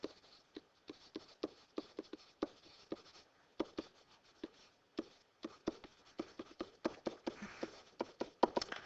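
Pen strokes scratch steadily across a surface while a geometry explanation about the diagonals of rectangles and rhombuses is written out. The taps and scrapes come in irregular bursts, close and fairly crisp, with no voice over them.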